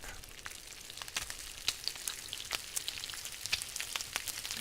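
Food frying and sizzling over a fire in the survival game The Long Dark, a steady crackling hiss with scattered sharp pops throughout, no talking.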